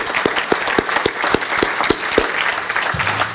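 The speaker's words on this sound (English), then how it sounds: "We give him a round of applause for his retirement." A crowd gives a round of applause for a retiree at an awards gathering, with several sharp, evenly spaced claps standing out near the front over the wider clapping, and a brief low sound closing it.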